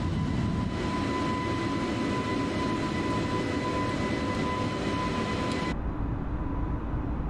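Iberia A320neo climbing out of Madrid in Microsoft Flight Simulator 2020, a steady loud jet engine roar with a faint tonal whine that drops sharply in level near the end.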